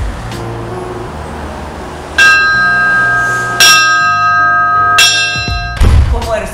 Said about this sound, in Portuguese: Posso tocar o sino de uma vez?